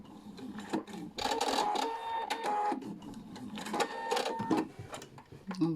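A Pfaff Quilt Expression 720 sewing machine stitches a decorative pattern, giving a busy mechanical whirring with uneven rhythmic clicks and thumps, close and moderately loud, with no talk over it.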